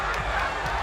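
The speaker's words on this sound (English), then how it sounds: "the crowd going crazy here for Demian Maia" Arena crowd at a UFC fight roaring for Demian Maia after his rear naked choke, a dense, loud wall of cheering with commentary over it.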